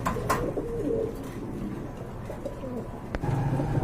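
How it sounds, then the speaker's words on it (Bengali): Pet pigeons cooing nearby in a loft, soft repeated low throaty coos over faint background noise, with no talking. "তো আরেক জোড়া কবুতর রয়েছে"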